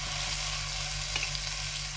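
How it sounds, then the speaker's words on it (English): Beef olives frying in hot oil in a pan, a steady, even sizzle with a low constant hum underneath and a small crackle partway through. "Right, the oil in the pan is nice and hot. So what we're going to do is add the olives."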